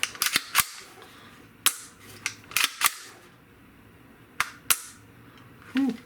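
Sharp mechanical clicks from the trigger and action of an SP5 firearm come in close, irregular bursts, with several crisp snaps spread across a few seconds of quiet and no voices.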